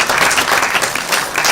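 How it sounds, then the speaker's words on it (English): Audience applause at an educational film festival award ceremony, a dense, loud, continuous burst of clapping from a hall crowd. "Please give a big round of applause."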